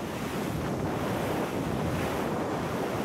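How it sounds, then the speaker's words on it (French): Strong wind rushing over a sailing boat at sea, a loud, steady roar of buffeting gusts blended with wave wash, continuous and close to the microphone. "on le sent bien le vent apparent"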